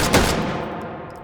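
A WW2-era rifle, such as a 1941 Johnson, fires a single loud, close shot in the H3VR virtual reality shooter, with a sharp crack followed by a long ringing decay.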